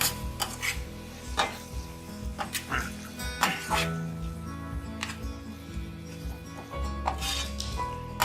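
Chili and coriander powder being stirred in a pan with tomatoes, a run of close metallic clinks and scrapes of a spoon against the pan over a low sizzle, with a few sharper knocks.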